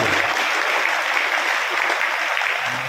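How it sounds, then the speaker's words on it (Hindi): Audience applause at a political speech event in Rajasthan, a dense, steady burst of many hands clapping, loud and close, lasting the whole moment without speech. "ताली तो बजाओ कम से कम"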